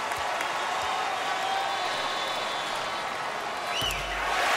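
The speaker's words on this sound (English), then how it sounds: "Most of the crowd here at the American Airlines Arena on its feet" Crowd at the American Airlines Arena cheering and applauding during a tense late moment of a Thunder at Heat NBA game, a steady, distant roar of many voices with a brief whistle-like tone near the end.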